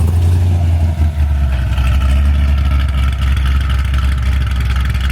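A Mustang or Corvette engine idles loud and close with a steady deep rumble that holds unbroken throughout.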